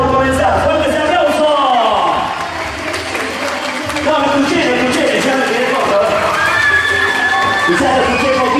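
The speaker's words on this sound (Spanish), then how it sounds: "Y les voy a pedir a todos, a todas, un fuerte aplauso porque ya estamos por comenzar." Crowd of children and adults applauding, cheering and shouting at a live tribute show, loud and sustained, with a voice speaking over the noise and scattered high whoops.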